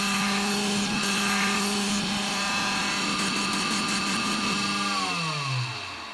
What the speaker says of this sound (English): now it's cutting the actual PCB out of the rest of the copper clad board.